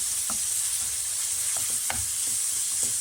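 Minced meat frying in a pan with aromatics, a steady close sizzle with soft scrapes and stirring clicks scattered through it, and no talking.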